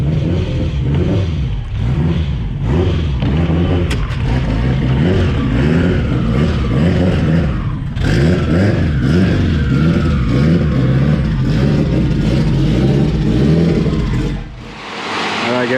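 A Honda S2000 engine revs on a dyno, loud and close, holding high drones with rising and falling pitch sweeps, a brief dip around eight seconds and a cut near the end.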